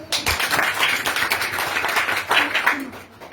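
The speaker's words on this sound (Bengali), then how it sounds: "তার জন্য জোরে করতালি" Applause from a seminar audience at a Bangladeshi business talk, a steady wash of clapping hands lasting a few seconds at moderate loudness, with a brief swell near the end before fading.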